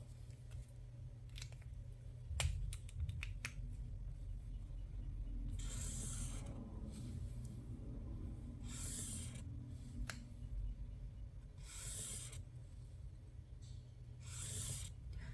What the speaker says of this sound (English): last thing I need to do is draw in lines over here